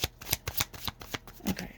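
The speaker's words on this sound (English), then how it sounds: "Let me shuffle these, wake these up." Tarot cards being shuffled by hand up close, a rhythmic series of crisp papery bursts about five per second with no talking.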